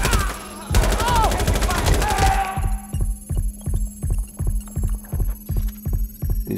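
Shotgun fire from enemies in Watch Dogs Legion, a loud burst of gunfire followed by a steady, rhythmic series of throbbing shots under a low game hum.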